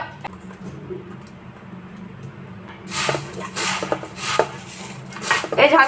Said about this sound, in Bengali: এই যে মুড়ি মাখলাম